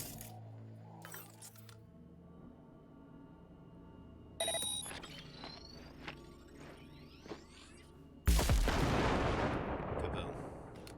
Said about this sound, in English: Detonate the grenade.